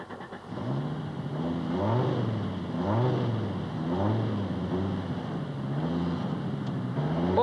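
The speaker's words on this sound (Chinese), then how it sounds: "Audi Quattro 就是四轮驱动的赛车，马力是达到成400匹的" Audi Quattro A2 four-wheel-drive rally car, a 400-horsepower machine, revving repeatedly in rising and falling surges, loud and close, steady engine drone throughout with no speech.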